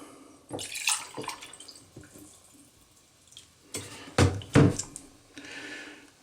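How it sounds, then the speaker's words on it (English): RV antifreeze glugs and splashes into a jar in short, uneven bursts, with quiet pauses between pours and a brief hiss of liquid near the end, close and fairly soft. "Okay, pour that in the jar"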